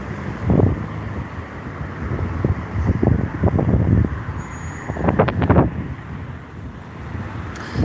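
Wind gusts buffet the microphone on a busy street in Scarborough, Toronto, with a few loud, low rumbling bursts rising and falling over steady traffic noise.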